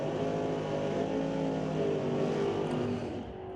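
Drag race cars, a '55 Chevy and a '71 Chevelle, accelerate hard down the strip in a Super Street race, a loud, steady, roaring engine drone that holds for seconds and then tails off slightly.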